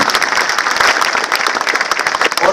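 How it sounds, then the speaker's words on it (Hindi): Loud applause from an audience at a business seminar honouring a guest, dense rapid clapping that fills the whole stretch without pause. "एक बार जोरदार ताली से सम्मान करेंगे"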